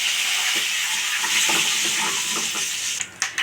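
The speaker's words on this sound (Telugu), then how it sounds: "కొంచెం ఆవాలు, అలాగే కొంచెం కరివేపాకు అనేది కూడా వేసుకున్నాండి. అవి కొంచెం దోరగా ఫ్రై చేసేసుకున్నాం." Mustard seeds and curry leaves frying in a pan, a dense continuous crackling sizzle with small popping bursts, then a couple of brief spoon scrapes at the end.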